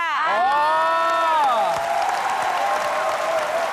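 A whole school's cheering squad applauds with claps, whoops and cheers, loud and close. A voice rises and falls over the crowd at the start.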